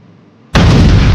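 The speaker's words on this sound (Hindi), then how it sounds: "नालायको, तुमने मेरे ऊपर बम फोड़ा" A firecracker bursts with a sudden, loud, close blast right after near silence, followed by a dense roaring crackle that stays strong to the end.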